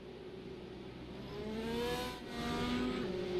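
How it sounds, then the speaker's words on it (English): Simulated IndyCar race cars in the iRacing game at the Milwaukee Mile, engines droning and revving as several cars pass under caution, a steady mechanical whine rising and sweeping past. "now we're hearing those cars getting the wave around"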